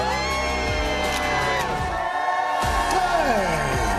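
A crowd of students on the TODAY Show plaza cheering and whooping in a dense, continuous roar of mixed voices, with shouts rising above the din throughout.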